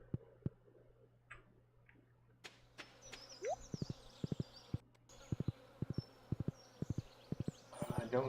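Horse hooves clip-clop in Stardew Valley as the horse is ridden, a quick, even run of crisp taps, fairly close, with a voice talking over parts of it.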